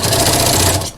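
Sewing machine stitching bias binding onto oilcloth, a loud, close, rapid mechanical whir lasting about a second before stopping abruptly.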